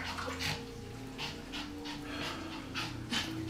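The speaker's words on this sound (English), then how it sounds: "Cute puppies." Puppies panting steadily in quick, shallow breaths, fairly close, with a low constant background hum and no talking.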